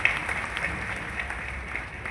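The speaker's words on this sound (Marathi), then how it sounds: "सर्वांनी टाळी वाजवून सरांचं स्वागत करू आपण" Audience clapping at a Ram Navami Bhagavat katha gathering, a steady, fairly dense patter of hands that runs without a break and sits at moderate volume.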